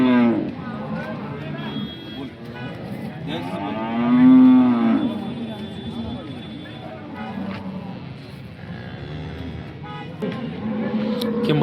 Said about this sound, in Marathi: जबरदस्त टॉप क्वालिटीची गाय आहे